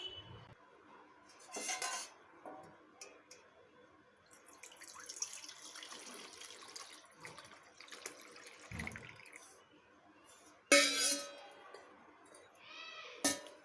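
Dishes and pans clink and clatter as a prepared food is shifted into another vessel in a home kitchen, with scattered sharp knocks, a brief running-water burst and quieter scraping between, close and moderately loud.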